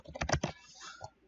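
A quick burst of keystrokes on a computer keyboard, several close clicks clustered in under a second and then tapering off, heard alone without talk.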